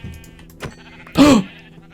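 A sheep in the video game Minecraft gives one loud, close bleat after a couple of soft shuffling sounds, with a faint background hum throughout.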